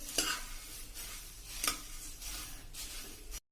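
Turmeric-coated puffed rice (murmura) stirred in a pan, with a dry scraping rustle and a few sharper spoon scrapes at regular intervals, close and steady with no talk.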